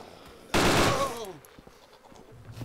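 Gunfire in the survival game DayZ: a loud burst starts about halfway in, a dense automatic-sounding blast that rings out and fades. Faint background noise follows, with no clear talk.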